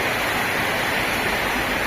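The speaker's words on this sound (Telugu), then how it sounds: "ఎంత ఘోరం వస్తుంది వర్షం చూడండి" Heavy rain pours down in a dense, unbroken roar of falling water, loud and close, with no voices over it.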